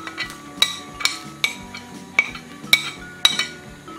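Metal spoon scraping and clinking against a soup pot as carrot and pepper go into a diet soup with grated cheese, about eight sharp, fairly regular clinks close by, with no talk.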